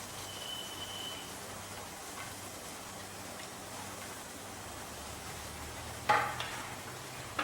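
Cardamom, cumin and cloves sizzle softly in hot ghee with a low, steady crackle, then a brief louder clatter near the end.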